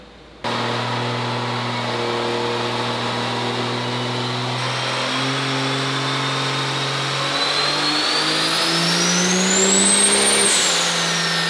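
A powerful race car engine, a deck plate roller motor, idles loudly, then revs higher and higher, its pitch climbing steadily with a sharp rising whine near the end.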